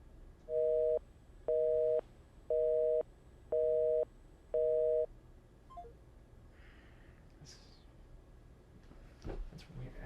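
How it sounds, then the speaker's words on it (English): Five evenly spaced telephone busy-signal beeps sound loud and clear, followed by quiet room noise with faint rustling. "Everyone's giving me busy tones."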